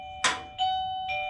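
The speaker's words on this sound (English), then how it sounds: "That little doorbell you heard was my wife's call system for me" A doorbell-style call button rings in a workshop: one struck chime followed by two softer tonal dings, faint and spaced apart.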